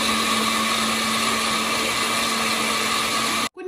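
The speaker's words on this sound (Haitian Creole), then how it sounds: "nous pral blender du riz." A blender grinds rice with water in a steady, loud, continuous whir that holds unbroken for several seconds, then cuts off abruptly near the end.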